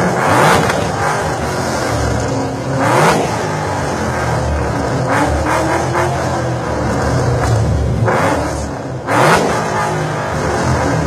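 At a car show in Lewiston, a Ford Mustang's engine is revved in repeated sharp bursts, each rising to a roar and falling back to a rumbling idle, close and loud.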